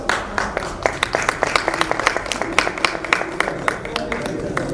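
Audience at a conference session on Belt and Road implementation in Nepal claps during a souvenir presentation, a steady run of sharp, fairly close hand claps over a murmur of background voices.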